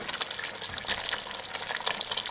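A covered pot of jaggery rice bubbles at a boil, a soft continuous simmering hiss with small pops close by, heard on its own.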